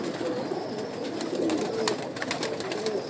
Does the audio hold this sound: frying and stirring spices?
no